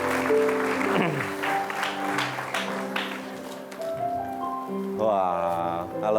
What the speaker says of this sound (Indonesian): Saya minta tepuk tangannya untuk Mas Anang dan Asanti.